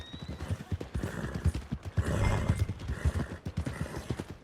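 Horse hooves clip-clop in a steady walking rhythm in the video game Red Dead Redemption 2, close and clear, with saddle and tack creaks mixed in and no talk.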